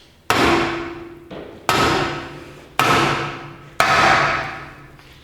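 A soft blow hammer strikes a nut threaded onto a CV axle, four firm, evenly spaced blows about a second apart, each with a short ringing decay, close and clear with no talking.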